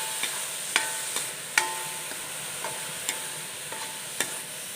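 Sliced onions soften in a pan for chicken curry while a spoon stirs them, a soft sizzle running underneath and sharp scraping clicks against the pan at irregular intervals, close and fairly quiet, with no voices.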